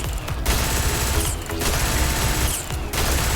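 The Poisonstorm weapon in Starfield fires in dense sustained bursts, loud and close, with a few short gaps between volleys and no speech.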